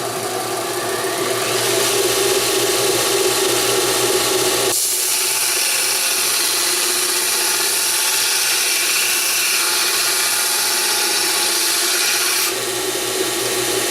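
BUCKTOOL dual-speed belt sander grinder running at high speed, grinding a small piece of metal: a loud, steady whine with a broad scraping hiss that begins a few seconds in and holds for about eight seconds before easing off.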